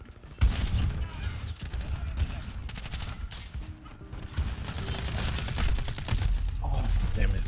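Rapid automatic gunfire and mechanical weapon clatter fill a Call of Duty Modern Warfare 2 match, loud and continuous after a brief quiet start, with game effects layered throughout.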